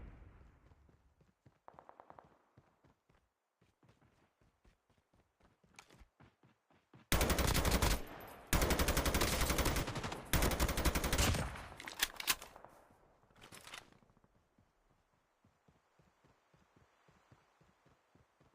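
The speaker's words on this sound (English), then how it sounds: "What was he shooting at over here?" Gunfire in Call of Duty Mobile: sparse single shots and footsteps, then a loud sustained burst of rapid automatic fire lasting several seconds, tapering back to scattered quieter shots.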